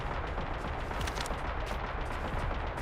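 Gunfire from a high-damage gun aimed at turrets in Starfield roars as a dense, continuous wash of heavy, rapid shots and explosions, loud and unbroken throughout.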